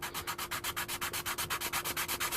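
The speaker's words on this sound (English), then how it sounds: "with a little bit of thin sandpaper, this is P600, just put in there and just rub and just do it like this" Fine P600 sandpaper rubbed by hand on a small part inside a BMW 7 series E65/E66 key fob: rapid, even back-and-forth rasping strokes, about eight per second, close and steady with no talk.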